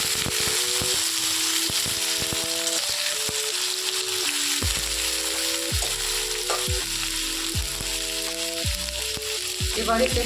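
Cut eggplant frying in hot oil for a Bengali hilsa recipe, a steady, loud sizzle that continues throughout, with a tune playing underneath.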